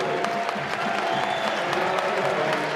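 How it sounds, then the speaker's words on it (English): Crowd applauding at a women's college basketball game between Syracuse and North Carolina, a steady wash of clapping filling the arena, moderately loud and even throughout. "Nice hand from the crowd for Renaya Kelly, the freshman"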